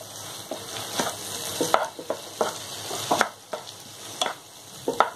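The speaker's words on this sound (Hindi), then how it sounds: "तो आलू को साथ में डालकर इसे 1 से 2 मिनट तक भून लेंगे।" Boiled potato pieces frying with spices on a tawa for tawa pulao, a soft steady sizzle with repeated scraping and tapping stirs every half second or so, no voices.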